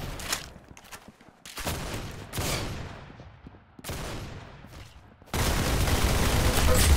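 Gunfire in the Roblox shooter Arsenal: several loud bursts of game shots separated by short pauses, ending in a sustained, dense volley, with faint voice under the action.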